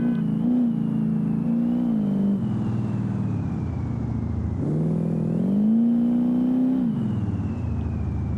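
A dragster engine revs in a racing video game (BeamNG-style career mode), rising and falling through several throttle swells with a steady whine on top, loud and close, no talk over it.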